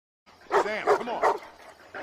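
A German Shepherd barks aggressively in a scene from the film I Am Legend, three or four close, loud, harsh barks with growly tone in quick succession after a short silence.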